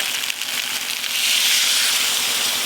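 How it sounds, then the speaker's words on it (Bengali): Water poured into a pan of potatoes frying with spices, giving a steady loud sizzle and hissing steam that swells and holds. "মশলার সঙ্গে আলু ভালো করে কষানো হয়ে গেছে। এবার জল দেব"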